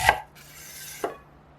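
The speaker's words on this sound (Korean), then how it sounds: "양파는 가능한 작게 자르고 볼에 넣으세요" A knife chopping onion finely on a cutting board for a tomato salad, two crisp, close chops spaced about a second apart with a soft scrape between and no speech.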